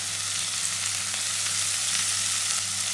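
Chicken feet fry in a pan with a steady, even sizzle and hiss, and a low electrical hum underneath; no talking.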